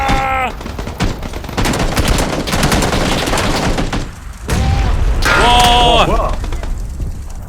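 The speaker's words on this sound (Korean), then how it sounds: "이거 수류탄 효과 개쩐다" A grenade explodes amid gunfire in the PUBG battle game, a dense stretch of rapid shots and booming bursts with a heavy thump midway, while players talk over it.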